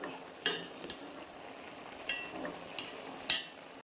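Drumstick pieces stirred into a pot of Kerala avial vegetables for an Onam dish, heard as a few faint, sparse scrapes and clinks against a quiet background.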